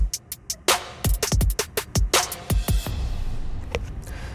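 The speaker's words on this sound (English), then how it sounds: "when the verse comes in, I added this reverse cymbal, then I added an impact" Future bass verse entry built from a rising reverse cymbal and a punchy impact hit, laid over a rhythmic electronic pattern of plucked synth stabs and deep kicks, loud and dense with a wash of cymbal hiss near the end.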